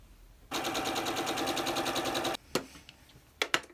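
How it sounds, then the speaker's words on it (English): A sewing machine runs in one fast, even burst of rapid stitching for about two seconds while joining a fabric triangle onto a quilt diamond block, followed by a few sharp clicks and handling knocks, close up. "finally I'm going to sew this triangle onto the top left of this diamond"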